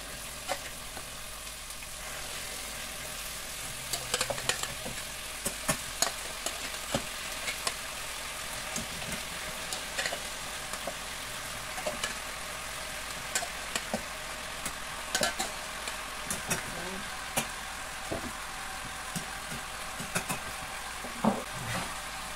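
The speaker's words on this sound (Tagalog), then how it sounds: "At ilagay na natin ang ating chicken." Chicken pieces hitting a hot pot with sautéed onions for Filipino tinola, giving a steady frying sizzle with scattered stirring clicks and scrapes throughout.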